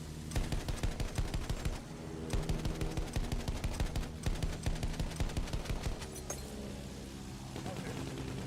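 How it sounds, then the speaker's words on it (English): War video game battle with rapid machine-gun bursts and heavy gunfire clattering in fast repeated volleys, loud and continuous, then thinning out near the end, with voices talking over it. "Artillery battery, be careful."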